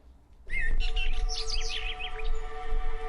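Birds chirping and twittering outdoors in nature, several quick high calls overlapping steadily over a low background rumble, fairly loud and close.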